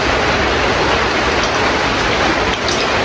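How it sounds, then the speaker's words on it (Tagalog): Heavy rain pours down steadily as a dense, loud, continuous hiss across the whole stretch, with no voices over it. "Grabing ulan dito sa amin, ma'am."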